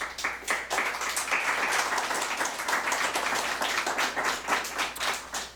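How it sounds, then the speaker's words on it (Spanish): A church congregation claps together in a steady, rhythmic beat, the unison claps pulsing clearly and fairly loud from start to finish. "Dale un aplauso a Jesús."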